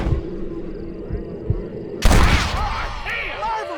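A loud, close gunshot rings out in the Western video game Red Dead Redemption, a sharp blast that cuts through a quiet ambient bed and then rolls off in a long echoing tail, with a voice speaking faintly beforehand.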